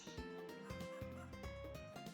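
Chickens cluck and warble in the farming video game Fields of Mistria, short fowl calls repeating over a gentle melodic game soundtrack, fairly quiet.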